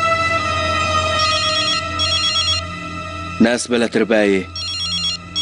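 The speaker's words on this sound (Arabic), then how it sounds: "بدك رد على التليفون بقى ولا؟" A telephone rings in a dubbed Arabic TV drama, its electronic trill repeating in regular bursts, steady and fairly close, while someone speaks briefly partway through.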